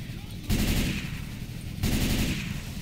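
Two bursts of rapid automatic gunfire in Left 4 Dead 2, each starting abruptly and rattling on loud and close, separated by a slightly quieter stretch of continued fire.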